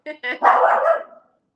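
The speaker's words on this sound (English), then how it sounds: "I have a barking dog." A few short, close dog barks in quick succession, then a longer yelping bark that trails off.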